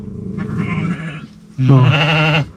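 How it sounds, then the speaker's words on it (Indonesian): Goats bleating close by in a rural forest setting, one shorter call followed by a loud, wavering bleat lasting under a second. "Oh banyak kambing ya."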